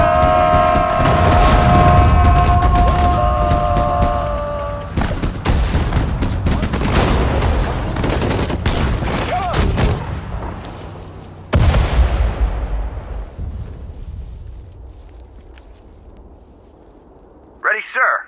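Dense gunfire and artillery booms from the World War II strategy game Sudden Strike 4, set at Guadalcanal: heavy volleys and blasts dominate the first half, then keep rumbling more sparsely, with voices speaking over the battle and a fresh loud burst near the end.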